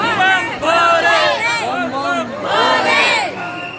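A dense crowd of pilgrims at Mahakal temple in Ujjain, many voices loudly calling and chanting together at close range in rising and falling waves.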